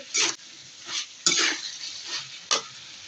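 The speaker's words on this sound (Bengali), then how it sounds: "ভেজে রাখা চিচিঙ্গার আলুগুলো আমি দিয়ে দিলাম, দিয়ে একটু নাড়াচাড়া করে" Fried snake gourd and potato pieces stirred into a fish curry in a hot pan, with a few close scraping strokes over a steady sizzle.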